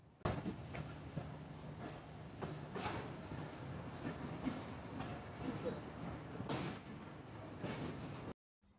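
Sirajganj Express pulls out of Sirajganj Bazar station with a quiet interior rumble, rhythmic wheel clatter and occasional knocks, before the sound cuts to near silence at the very end.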